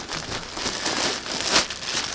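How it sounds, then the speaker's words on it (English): Plastic bag crinkling and rustling as it is pulled off a very full pillow during a sewing project, a close, soft, continuous crumple with one sharper rustle near the end. "it's just a matter of taking the plastic bag off"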